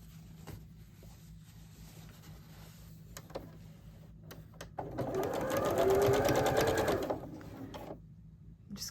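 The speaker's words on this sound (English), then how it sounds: "Just gonna sew the seam and I'll be finished." A sewing machine stitches a quilt block seam, a close, steady mechanical whirr lasting about three seconds after quiet handling clicks, then stopping.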